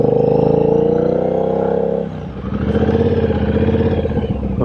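A Triumph Bonneville Bobber engine revving loudly up close, a sustained throaty roar that drops off briefly, then picks back up into a lower, pulsing idle-to-rev rumble.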